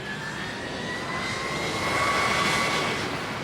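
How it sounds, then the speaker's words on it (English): A jet airliner's engines spool up as the throttles are pushed forward for the takeoff roll, a steady broad roar with a thin whining tone that grows gradually louder. "He pushed the throttles up. He said, "We go." The aircraft started to roll."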